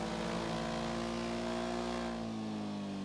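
Tractor in GTA V, a steady droning engine with tonal harmonics holding loud and close, then easing slightly near the end, with no talk.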